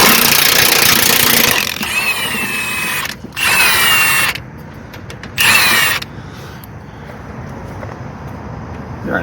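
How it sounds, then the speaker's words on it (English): Power tool driving out a bolt on a 2001-2008 Chevrolet Trailblazer rear shock, loud whirring bursts that start and stop several times, close up over a steady background hum. "Now you come up here and take this bolt out."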